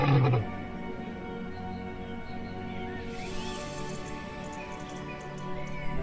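A lion in the Masai Mara gives a brief, deep roar at the very start, followed by a steady, sustained tonal background with no talking.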